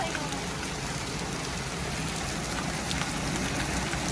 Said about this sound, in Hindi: इतनी देर में देखें कितना पानी पानी कर दिया बारिश ने।